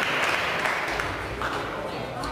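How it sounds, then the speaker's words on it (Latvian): Applause from an audience at a judged show, a continuous dense wash of many hands clapping at a steady level, with speech mixed in. "Aplausi skatītājs simpātijai, aplausi arī žūrijai"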